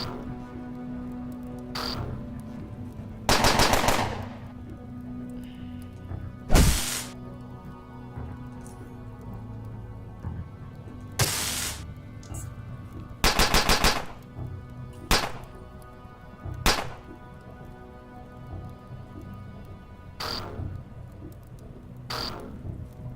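Enemy gunners fire in the video game UnderRail, several short loud bursts of rapid shots and single heavy thumps spaced apart over a steady low game hum.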